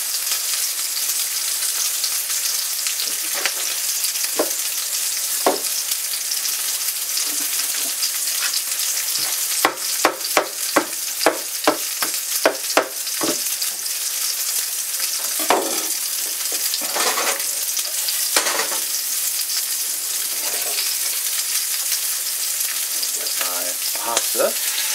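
Salmon sizzles steadily in a hot cast iron pan, a constant frying hiss broken by bursts of sharp crackles and pops, fairly loud and close with no talk.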